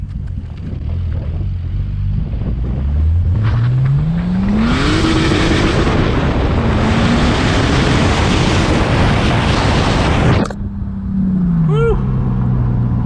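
Turbocharged BMW engine pulling hard under acceleration with an open wastegate dump, loud and close, engine pitch climbing through gears with a rushing turbo whoosh, then a sharp cutoff and settling back down.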